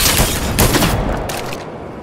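Three-round bursts of gunfire ring out in a video game, loud sharp cracks repeating in quick clusters before trailing off near the end.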